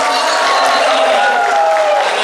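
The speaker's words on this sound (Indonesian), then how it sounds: "boleh kita berikan tepuk tangan yang meriah" A large crowd bursts into sustained, dense applause and cheering at a deputy governor candidates' debate, a loud continuous wash of clapping filling the space.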